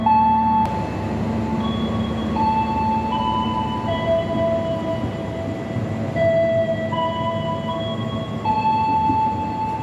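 A passenger train, the Gumarang, idles at Pasar Senen station, Jakarta, with a low rumbling engine, while sustained tonal notes, like a station chime or horn, shift in pitch over the noise.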